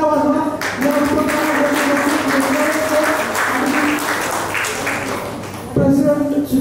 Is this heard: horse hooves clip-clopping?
no